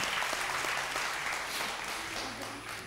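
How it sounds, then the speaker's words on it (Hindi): Sustained studio audience applause during a Ramadan TV quiz show, a broad even patter of many hands clapping, with faint voices lingering underneath. "इनके लिए बहुत सारी तालियां जी"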